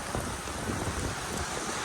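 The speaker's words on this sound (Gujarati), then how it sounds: "જબરો વરસાદ આવ્યો guys આટલો" Heavy monsoon rain pours steadily at home, a dense, continuous broadband hiss with no breaks, loud and close, with no voices over it.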